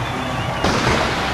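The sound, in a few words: fireworks exploding at a Mardi Gras parade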